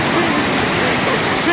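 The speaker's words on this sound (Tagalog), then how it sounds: "Grabe yung lakas na alon." Strong sea waves at Repulse Bay beach in Hong Kong, a loud, steady broadband roar of surf and churning water filling the whole stretch with no clear breaks.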